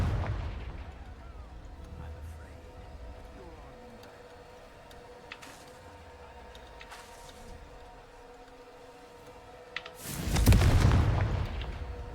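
Fire-spell explosions in a video game, mostly a low rumble with scattered ticks and clicks, then a loud booming blast near the end that swells and lingers.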